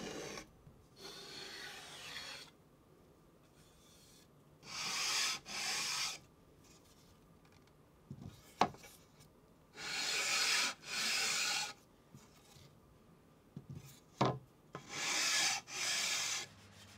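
Maple wood picture frame being hand sanded in rhythmic bursts of raspy rubbing, several strokes per burst, with pauses and a few light knocks between, close and fairly quiet.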